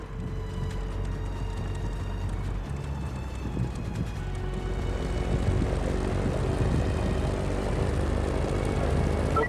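A propeller plane's engine drones steadily in a video game, a loud continuous hum that swells and grows rougher toward the end, with no talk over it.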